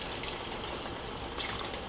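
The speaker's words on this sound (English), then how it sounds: "And I'm gonna add another half a cup of water." Half a cup of water poured into a simmering pan sauce for stewed pepper steak and onions, a steady soft rushing splash that runs unbroken and fairly quiet throughout.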